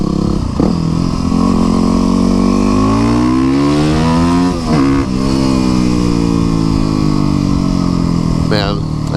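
Loud, close streetbike engine winding up through the revs at high speed, its rising tone dipping briefly at gear changes, with heavy wind rush throughout.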